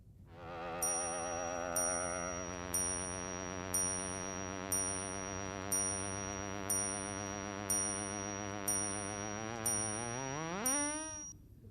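A sonified star of 1.25 solar masses sounds as a sustained, rich synthetic tone whose pitch wavers with vibrato and bends upward at the end, while a bright bell chime rings at regular intervals about every second.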